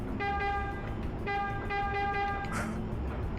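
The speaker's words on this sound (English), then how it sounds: "The honking works." A car horn honks in the video game Shenmue, sounding two long, loud tonal blasts one after another over a steady background rumble, followed by a short hiss.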